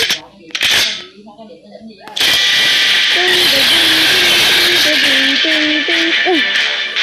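Gunfire in the Mini World video game during a boss fight: a sharp burst of shots at the start, then a loud, sustained hissing blast of game effects with tonal chirps over it, continuing for several seconds.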